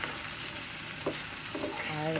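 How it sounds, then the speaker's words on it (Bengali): Peeled potatoes for mash frying in oil in a wok until browned, a steady close sizzle with a few sharper spatters and stirring scrapes, no voices. "ভর্তার যে খোসা আলুগুলো আছে এগুলোকে সুন্দর করে লাল লাল করে আমি এখন ভেজে নেব"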